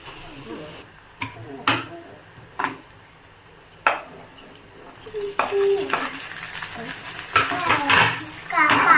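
Tomato dropped into golden brown onions frying in a pan, a steady sizzle building up as a spoon taps and scrapes the pan in irregular close strikes, with no talk.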